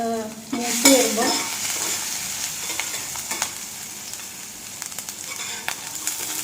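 Garlic and ginger fry in a pan with a loud sizzle near at hand. A spoon scrapes and stirs through the oil, with a bright clatter at the start and crackling spits afterward.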